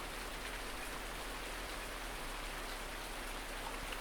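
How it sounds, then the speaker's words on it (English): Steady, dense rain falling in the Farming Simulator 19 game, a constant loud hiss throughout with no voices over it. "I'm getting sick of the rain. Rain sucks. It's loud and noisy."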